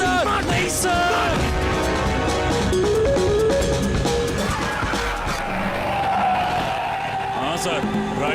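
An auto rickshaw driven fast with tires skidding and squealing, a loud continuous run of motor and tire noise, with people talking over it throughout.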